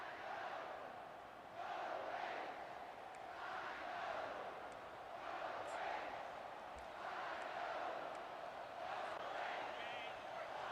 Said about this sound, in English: Hear the crowd chant.